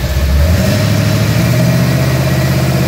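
A car engine on a dyno, run through an ATI Max Duty T400 transmission with a bolt-together lock-up converter, holds a loud, steady low drone at modest RPM. The level barely changes and no one speaks over it.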